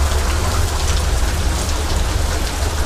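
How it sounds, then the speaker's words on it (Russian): Heavy outdoor rain downpour roars steadily and close, a dense unbroken hiss of drops hammering surfaces with a low rumble beneath and no voices. "Вон, смотрите, какой ливень херачит."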